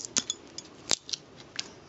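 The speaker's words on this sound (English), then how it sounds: "I'm just trimming off the excess" Scissors snip away excess material while a laptop battery pack is opened, giving several sharp, separate cuts at an uneven pace up close, with quiet handling between them.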